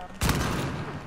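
A single loud gunshot in the video game Uncharted 4, a sharp broadband blast that rings out and decays over a second amid the game's battle ambience.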